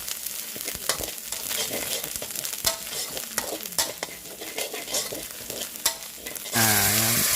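Homemade pounded Thai curry paste dry-roasting in a pan, a continuous sizzle with frequent scraping stirs and knocks, ending in a sudden louder burst of hiss and a tonal hum.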